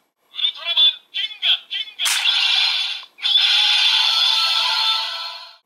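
A Ginga Spark toy for Ultraman Ginga plays its electronic sparkle effect: a few short chirping bursts, then a bright crackling swell and a long shimmering wash, loud and close with no voices.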